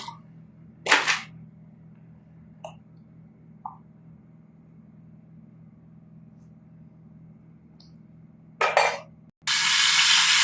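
Fish hits a hot pan with tomato, garlic paste, green chili paste, turmeric and spices, and a loud, sustained sizzle bursts in near the end after mostly quiet with a few sharp clanks.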